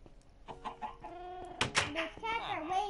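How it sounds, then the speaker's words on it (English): Minecraft chicken clucking in several short bursts, mixed with game sounds and possible voice activity, fairly close and moderately loud. "This chicken just came from out surgery."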